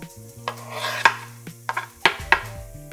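Garlic is added to onion softening in a pan for shakshuka and stirred, with a utensil scraping and clinking against the pan in a few sharp knocks over a soft sizzle and faint background music.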